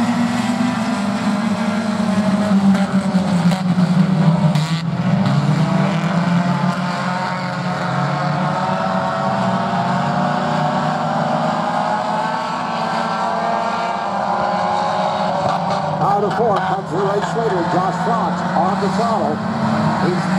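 Mini stock race cars roar around Sportsman Speedway in a continuous loud, droning engine wash that swells and fades slightly as the pack passes, with a race announcer talking over it the whole time.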